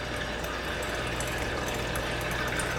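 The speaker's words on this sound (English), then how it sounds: "Now it's going to spit out all that oil and water." Hot oil and water spit and sputter in a pot while infused oil is being made, a loud, unbroken crackling hiss with a steady low hum underneath and no voices.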